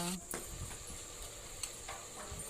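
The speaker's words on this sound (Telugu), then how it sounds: "ఇప్పుడు పసుపు యాడ్ చేసుకున్నామండి ఇప్పుడు అలా టర్న్ చేసుకోవాలి" Turmeric stirred into cluster beans frying in a pan with curry leaves: faint scraping stirs over a low sizzle, with a few light knocks, quiet and close.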